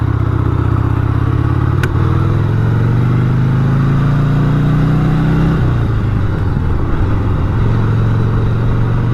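A 1988 Harley-Davidson Sportster XLH 1200 rides in second gear, its engine loud and close with a steady rumbling drone that climbs in pitch, dips at a shift near the middle, then drones on with wind noise.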